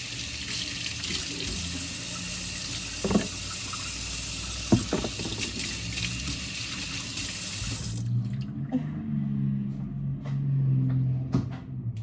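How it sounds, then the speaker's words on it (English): Water from a kitchen tap runs steadily into a sink as hands are washed after touching raw chicken. The splashing is close and continuous, with a few clinks, then it shifts to a lower, softer flow near the end. "I touched my chicken, so I'm going to wash my hands."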